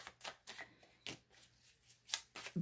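Tarot cards from the Queen Sugar Tarot deck being drawn and handled: several quick, crisp papery slides and flicks, close and fairly quiet, spaced through a short moment with no talking.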